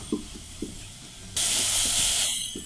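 Finely chopped green pepper goes into a pan of sautéed grated onion. A few light taps come first, then an abrupt, loud sizzling hiss bursts out and slowly eases off.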